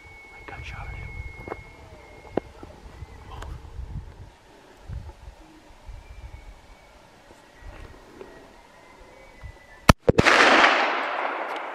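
A muzzleloader rifle fires once during a Utah elk hunt, a sharp, loud blast near the end followed by a long, rushing smoke-filled roar. Earlier there are quiet whispers and low voices, plus faint rustling.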